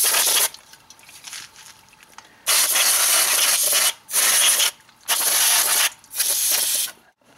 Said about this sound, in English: now I'm going to spray this down with some brake cleaner